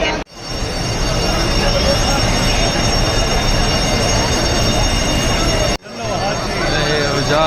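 Crowded Hajj pilgrims' train at Arafat and Muzdalifah, a loud continuous rumble of the moving train with wheel noise, briefly cut near the end, with people talking over it.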